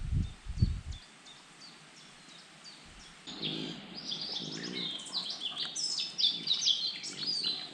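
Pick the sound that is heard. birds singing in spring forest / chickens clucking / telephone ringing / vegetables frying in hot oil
birds singing in spring forest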